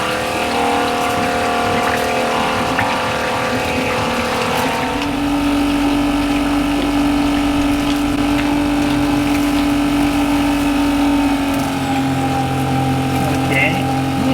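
A Maxzone macerator pump drains an RV black water tank, giving a loud, steady motor whir with a deep throbbing hum that strengthens partway through and runs continuously close by.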